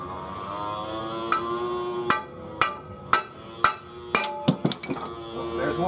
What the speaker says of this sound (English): let me hammer on this, see if this thing goes through